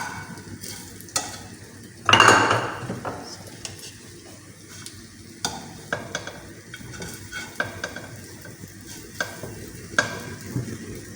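Goat chops frying in a pan, giving a soft continuous sizzle with scattered clinks and stirring taps of utensil on the pan, plus one louder scrape near the start.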